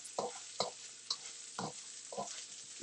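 Garlic and shrimp in a hot frying pan give short, irregular bursts of sizzling and stirring, about six close scrapes and spits over a quiet background.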